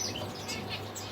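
A baby shaft-tail finch begs for food with a quick series of high, thin chirps, close by and steady over a faint background hiss.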